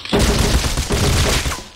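A gunshot burst in the video game Rust: a loud, dense volley of firing rolls on for under two seconds, close and alone with no talk.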